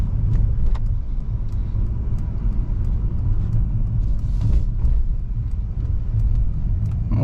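Cabin of a 2023 Mercedes-Benz C300 under smooth acceleration on the road, with a steady low engine and road rumble throughout and light interior rattles.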